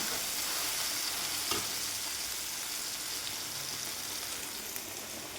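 Chicken with onion, tomato, green chilli, curry leaves and capsicum sizzles steadily in a pan, a continuous close frying hiss with occasional stirring scrapes and no talk.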